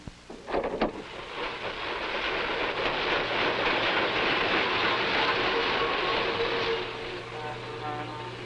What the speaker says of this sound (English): arriving trains must be reassembled into new trains in freight yards